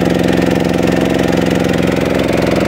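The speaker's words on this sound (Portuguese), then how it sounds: "Deixa só esses dois motores mesmo." Two boat motors run steadily on the Amazon river, a loud, continuous, close engine drone with a fast regular pulsing throb and no pauses or voices.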